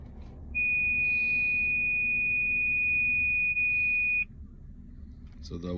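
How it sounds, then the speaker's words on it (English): An iPhone speaker plays a steady high test tone during calibration in a Face ID repair. The tone holds for nearly four seconds over a low room hum, then cuts off abruptly. "So that was testing the sound system."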